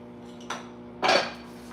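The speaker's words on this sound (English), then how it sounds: "we're gonna start slicing the onions" A knife slices through onions on a cutting board: two short, crisp cuts about half a second apart, close and fairly quiet, with no talking.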